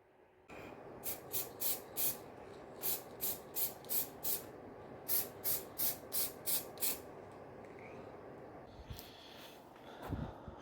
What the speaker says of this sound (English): we'll get some spray on there